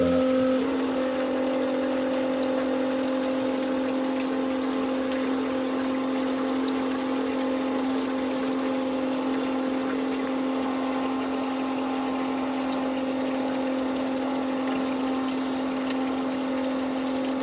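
Water flushing through the cooling system of a rebuilt, previously overheated Detroit Diesel 8V92TA engine makes a steady pump-like whir and rush, with a constant hum running unchanged throughout and no talking.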